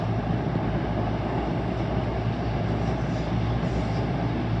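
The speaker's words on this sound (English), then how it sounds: "And here comes a Super Voyager." A Class 221 Super Voyager train passes, producing a steady, continuous low rumble and broadband roar at moderate distance with no break throughout.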